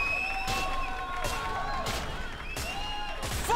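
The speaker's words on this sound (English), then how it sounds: "sounds like the crowd's really enjoying this thing here" In the video game Manhunt 2, a crowd roars and cheers in muffled, repeated swells amid game sound effects and tonal noises, with no talk over it.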